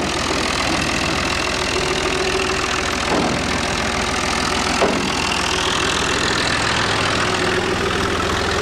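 A tractor engine idles steadily and loudly up close with a constant low rumble while a trolley is hitched behind it, with a couple of brief clanks from the hitching.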